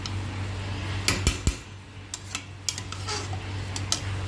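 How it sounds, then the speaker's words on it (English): Rice and water for chicken biryani are stirred in a pressure cooker, with a few sharp metallic clinks and scrapes of a spoon against the pot scattered over a low steady hum, no voices. "So now the water is added and I'm giving it a slight mix so that everything gets mixed up together"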